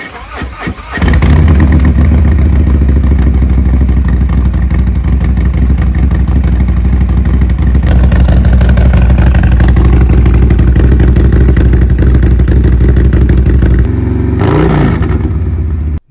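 Harley-Davidson Low Rider ST motorcycle fitted with an upgraded cam, idling loud and close with a choppy, uneven rumble, then a short rev near the end before cutting off.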